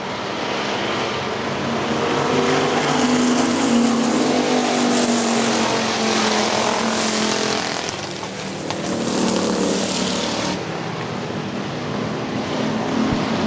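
Factory stock cars racing at Hartford Speedway Park, a loud continuous engine roar rising and falling as the pack passes close by, no talk.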